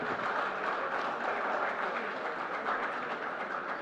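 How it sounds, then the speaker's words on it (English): An audience at a valedictory session applauds, producing a dense, steady wash of clapping with no breaks and no voices heard above it. "So a golden round of applause for all our gold partners."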